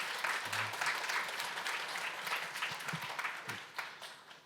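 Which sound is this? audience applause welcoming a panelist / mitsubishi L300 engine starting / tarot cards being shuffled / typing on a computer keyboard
audience applause welcoming a panelist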